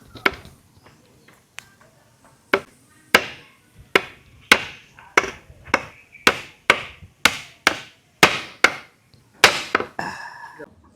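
Nails are hammered into a stool with a series of about fifteen sharp, evenly spaced hammer blows, close and loud, with a few lighter taps at the start.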